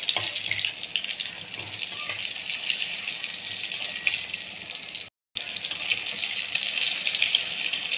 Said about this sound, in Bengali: পটলগুলো এরকমভাবে উল্টে পাল্টে ভেজে নেব।